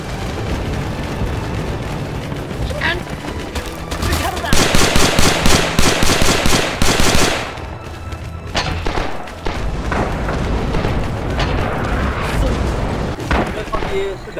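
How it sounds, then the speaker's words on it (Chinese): Rising Storm battlefield under artillery barrage: rapid machine-gun bursts and heavy thuds, peaking in a loud rhythmic volley midway, with chaotic gunfire and voices throughout. "砲撃だ"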